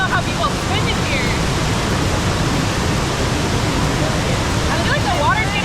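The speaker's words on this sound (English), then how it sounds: "I feel like the water's getting rougher." Rough, rushing river water in a cold valley stream fills the scene with a steady, loud broadband roar, with people's voices faintly mixed in over the churning current.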